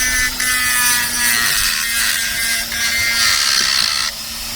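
A Dremel rotary tool sands and levels a gel coat repair on a boat hull, a continuous high whirring grind with slight changes in pitch and pressure, close and fairly loud, running nearly without pause and alone.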